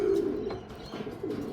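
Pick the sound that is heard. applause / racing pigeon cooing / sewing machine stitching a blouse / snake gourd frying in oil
racing pigeon cooing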